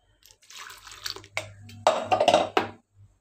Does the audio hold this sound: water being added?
yes